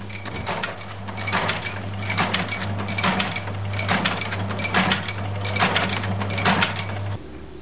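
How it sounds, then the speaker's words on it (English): A tatami mat sewing machine stitches in a steady mechanical rhythm, with about eight regular clattering bursts over a constant low motor hum that stops near the end. "There are two types of machine used for sewing tatami mats. One machine sews lengthways and the other does the ends."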